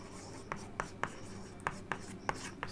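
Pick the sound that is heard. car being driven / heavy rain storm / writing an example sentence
writing an example sentence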